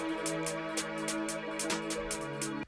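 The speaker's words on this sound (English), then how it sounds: "Then I added in this counter snare," A beat with a sustained melodic backing, where a second snare adds extra off-beat hits between the main backbeat strikes.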